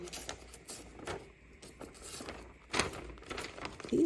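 Paper being cut with scissors along a pencil line for a greeting-card appliqué craft, giving soft crisp snips and rustles at an irregular pace, close by, with no speech.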